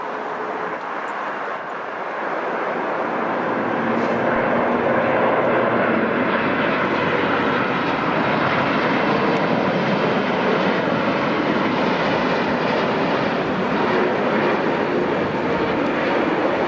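A United Boeing 787-10 widebody jetliner arriving at Newark airport from Tel Aviv, its engines a steady, loud roar that swells slightly after the first few seconds and holds broad and constant as it passes.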